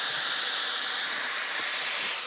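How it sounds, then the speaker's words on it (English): Liquid hits a hot pan of browned meat in Cajun rice and gravy cooking, and a loud, steady steam hiss spreads across the clip with no other sound. "A lot of steam, of course,"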